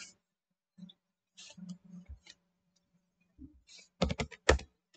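Keys tapped on a computer keyboard while code is written: scattered soft clicks, then a louder quick burst of several strokes near the end, close and otherwise quiet.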